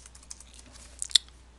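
A computer keyboard is typed on with soft, scattered keystrokes, followed by one sharper, louder key click, against quiet room tone.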